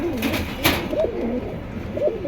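Pigeons cooing nearby in a small collection kept by a pigeon seller, a few rolling coos rising and falling over about two seconds, close and clear with no talk.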